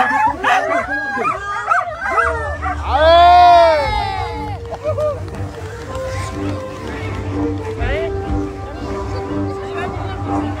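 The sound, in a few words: sled dogs barking and yipping at a sled race start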